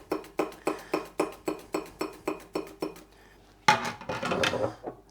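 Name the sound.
slicing cucumber on a microplane slicer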